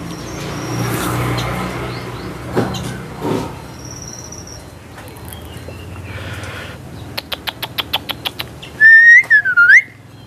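A young white-rumped shama (murai batu), a competition songbird, gives sharp whistled notes and chirps against a noisy background with a passing vehicle. A quick series of clicks leads into loud, sliding whistles near the end.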